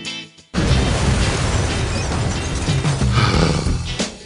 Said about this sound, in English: You and your explosions, Glover.